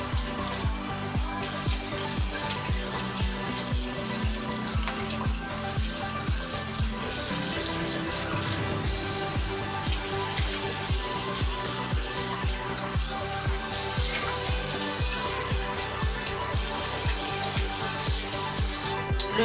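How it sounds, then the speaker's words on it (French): Lukewarm water running steadily from a tap into a sink for face washing, a continuous close splashing rush that stays even throughout with no speech. "je vais nettoyer mon visage et passer à mes soins de jour. Une eau un tout petit peu tiède."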